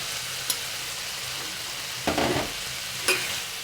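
Potatoes and data stems go into a pan of fried spices, giving a steady background sizzle broken by a few short scraping stirs and clatters of a spoon against the pan.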